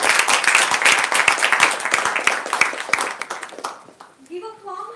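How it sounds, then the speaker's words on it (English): An audience at a Toastmasters club milestone meeting gives a burst of brisk, close applause with many hands clapping for several seconds, then it stops and a voice speaks briefly. "Applaud loudly when a person comes on the stage."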